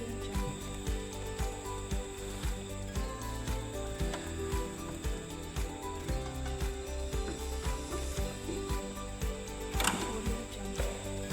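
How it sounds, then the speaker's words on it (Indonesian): A sewing machine stitches a seam straight along the pattern line, its needle mechanism running in a steady, fast mechanical rattle throughout, loud and close with no pauses. "kita jahit tepat di pola jahitan ini"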